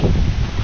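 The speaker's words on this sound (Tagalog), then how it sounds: "Kalakas lang hangin." Strong wind buffets an outdoor spot where laundry is being hung to dry, a steady low roaring rush across the microphone with no speech.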